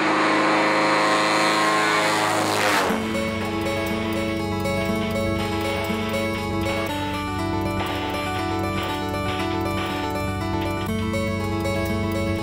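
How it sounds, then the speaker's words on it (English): A Cessna 185 seaplane's Continental 520 cubic inch engine fires up after a brief quiet moment and settles into a loud, steady propeller drone with a droning harmonic hum that continues throughout. "light up a fire in the big Continental 520 cubic inch engine and head up coast"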